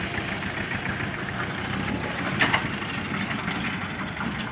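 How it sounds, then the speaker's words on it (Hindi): A tractor engine idles at a sugarcane weighing station, a steady near rumble throughout with a brief clatter in the middle. "यहाँ गांव से ट्रैक्टर लाते हैं, गन्नों के यहाँ इकट्ठा कर देते हैं, और ये तोलने वाली मशीन है, इस पर ट्रैक्टर खड़े होते हैं"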